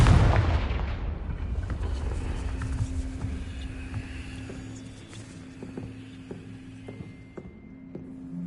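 Confringo spell blast in a wizarding video game, one heavy booming explosion up front that decays into a long rumbling tail with faint game ambience and scattered small clicks.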